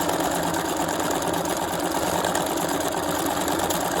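A sewing machine stitches a piece onto fabric in a steady, rapid mechanical whir with a fast, even rhythm, running continuously at close range with no speech.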